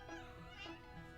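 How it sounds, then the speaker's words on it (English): A pet cat gives a soft, faint meow or two, quiet and close, over a low background murmur. "my cat saying hello."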